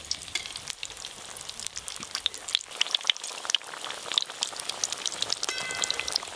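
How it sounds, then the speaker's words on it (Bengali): Potato chops (aloo chop) in a besan batter frying in hot oil, a dense, steady crackling sizzle full of tiny pops that keeps going without a break. "তেল ছিটাও, আমি এরকম চপ ছাড়ছি"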